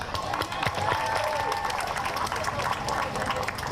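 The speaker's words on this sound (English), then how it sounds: "let's give a round of applause to Emmanuel, please." Audience applause at a World Refugee Day community event, a steady crowd clapping that fills the space throughout, with some voices and cheering mixed in.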